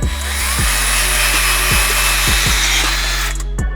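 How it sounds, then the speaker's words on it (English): A power drill with a step bit boring bolt holes in metal pieces for a camera cart, a loud steady whine with several short dips as the bit catches and the load changes, no talking. "set up the step bit and make sure those fit my bolts"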